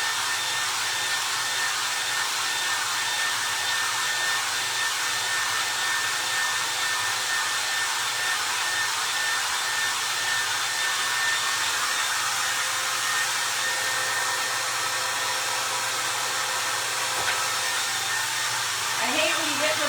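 A hair dryer set on high blows steadily, drying foam clay carrots before paint is applied, giving a loud, constant roar that lasts throughout.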